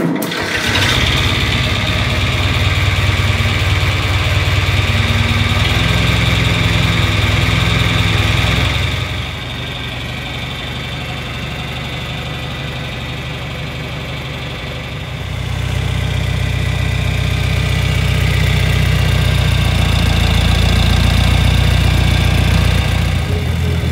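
A tractor engine hitched to a John Deere F-145 plow runs loud and close, starting with a steady rumble, dropping lower for a few seconds, then rising again and carrying on.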